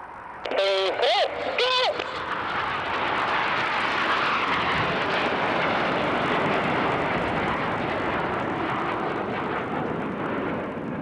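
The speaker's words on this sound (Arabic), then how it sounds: "ستقوم طائرتان الآن بالدخول من على يمين المنصة، وطائرتان بالدخول من على يسار المنصة" Saudi Hawks aerobatic jets pass the stand at an air show, a broad sustained engine roar that swells and holds, after a brief warbling tone at the start, with a commentator's voice over the loudspeakers.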